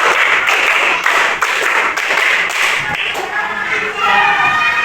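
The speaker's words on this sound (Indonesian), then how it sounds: "2 kali tepuk 5." A classroom of students claps a counted rhythmic pattern twice, sharp hand claps in quick bursts with brief gaps, close and loud, ending as the noise thins out.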